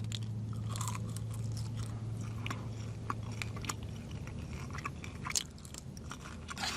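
Crunchy bites and chewing of cool, slightly crisp McDonald's french fries, close to the mic, with a steady low hum underneath and no talking.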